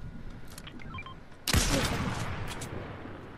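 Gunfire erupts in a Fortnite match, a sudden loud blast followed by a lingering rumble and scattered distant shots, preceded by faint beeping interface tones.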